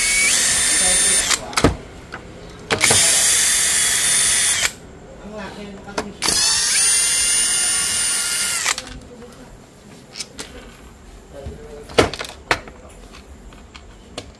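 A power drill backing screws out of an 18650 battery bank for a Ninebot electric scooter: several loud, whining bursts of a few seconds each, separated by clicks and handling noise, with someone talking between them.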